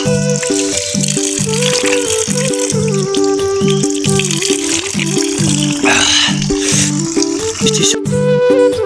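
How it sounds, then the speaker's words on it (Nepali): Spring water pours steadily from a roadside wall in a hill village, a loud, continuous splashing gush with a rattling, rhythmic texture running throughout. "यसरी बाटाका भित्तामा चाहिँ शुद्ध पानी पनि पाइन्छ"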